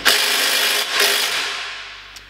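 A bolt is tightened with a 21 mm socket on an upper suspension arm, giving a close, loud metallic ratcheting rasp that swells twice and fades over about two seconds.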